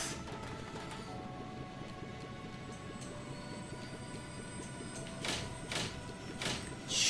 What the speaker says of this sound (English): Why does an airship sound like a train?